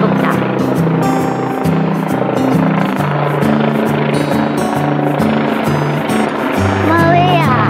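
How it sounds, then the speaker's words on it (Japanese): A helicopter thumps overhead with rapid rotor beats, loud and close, while people talk nearby. "ヘリコプター飛んでるよ、ヘリコプター"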